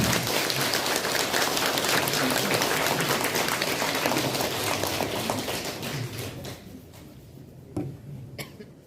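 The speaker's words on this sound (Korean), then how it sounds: "큰 박수로 맞이해주시겠습니다." A church congregation gives a dense, sustained round of applause to welcome a priest at an evening Mass talk. The clapping stays loud for several seconds, then tapers off into a few last claps and quiet room sounds.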